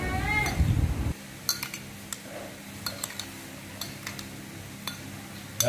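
A spoon clinks against a bowl while three spoonfuls of sugar are stirred into a Vietnamese sour-spicy fish sauce dip. The taps are light and irregular over a faint room hum after a brief voice at the start.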